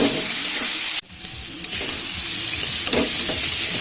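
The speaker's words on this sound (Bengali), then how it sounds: "এবার ভালো করে নেড়ে কষে নেবো" Soaked soybeans sizzle loudly in a hot pan while being stirred, a dense continuous frying hiss broken by a brief dip and scraping stirs.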